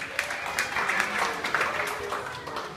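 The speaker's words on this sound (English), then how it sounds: "Let's give Raj a round of applause." Audience applause at a town hall gathering, a dense wash of clapping from a crowd with faint voices mixed in, steady throughout.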